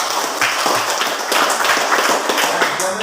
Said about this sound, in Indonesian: Tepuk tangan untuk Religius.